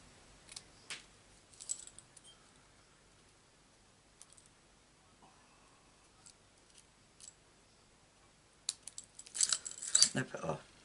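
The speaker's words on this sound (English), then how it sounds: "snip it off." Scissors snip through cardstock during Stampin' Up card making, a few sparse light cuts early on, then a busier burst of sharp snipping and rustling near the end, close and fairly quiet.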